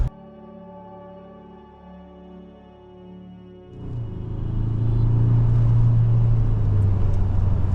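Exhaust of a 2023 Ford Ranger Raptor: a quiet, steady idle drone, then a sudden surge into a loud, deep, grunting rev that holds strong and close to the end.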